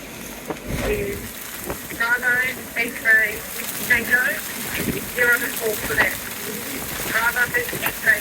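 Steady rain from an open-water thunderstorm on Hervey Bay patters and hisses throughout, with voices talking over it in short bursts.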